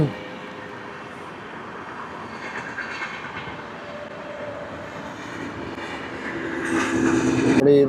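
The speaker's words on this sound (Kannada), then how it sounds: "ಟ್ರೈನ್ ಬೇರೆ ಹೋಗ್ತಾ ಇದೆ" A train passes nearby, its low rumble and wheel clatter swelling steadily and growing loudest toward the end.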